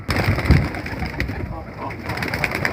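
Pigeons released from their loft flutter and coo close by, with soft wing flaps and low cooing over a faint background, and a voice talks briefly.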